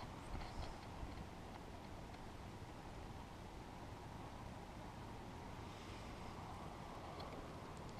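Gusting wind sweeps across an open outdoor spot under a heavily overcast sky as a weather front moves over, a steady, dense rush that fills the whole stretch with no one speaking.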